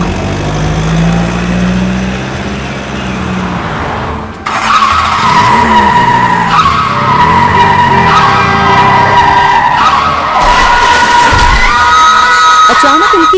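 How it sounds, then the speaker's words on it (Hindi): A car skids with a long tire squeal, then a sudden loud crash as it collides head-on with another car, followed by ringing metallic debris and screeching, loud and close throughout. "अचानक उनकी कार के सामने एक और कार आ गई। देखते ही देखते टक्कर हो गई"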